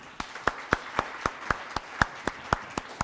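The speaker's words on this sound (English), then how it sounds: "let us give them a big round of applause" A live audience claps for a panel at a public discussion event, the applause coming as a run of distinct, sharp claps, roughly four per second, fairly close and steady with no talk over it.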